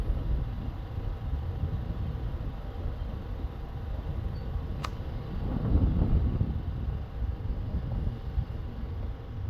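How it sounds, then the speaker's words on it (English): Wind buffeting outdoors near bald eagles, a steady low rumble of gusts with a stronger surge midway, loud and close, with no voices. "it's pretty windy out here today though."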